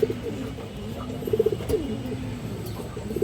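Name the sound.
khaki female pigeon cooing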